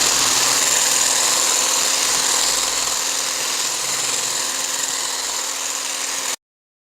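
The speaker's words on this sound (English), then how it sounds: "I'm going to whisk it for a further 5 minutes until it should get very thick" An electric whisk beats a thick lemon cream mixture off the heat, a steady close motor whir running unbroken for about six seconds before cutting out abruptly.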